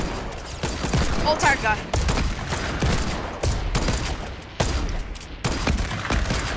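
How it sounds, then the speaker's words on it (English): Sniper rifle fire from semi-automatic weapons in a Fortnite Battle Royale match cracks repeatedly at irregular intervals, some shots loud and near and others farther off, while a player talks over the gunfire. "I can hear a lot of people using semi-auto snipers."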